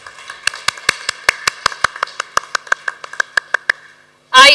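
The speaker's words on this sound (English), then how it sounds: "Please give a round of applause, a thunderous applause" At a gavel club debate night, a sparse round of applause for the best debater: crisp, evenly spaced claps from just a few hands, close by, ending after nearly four seconds before a brief loud burst of sound.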